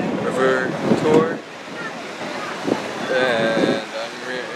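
A tour boat rides the water on a Chicago river tour, with wind buffeting the microphone and waves washing beneath voices carrying over the steady outdoor rush.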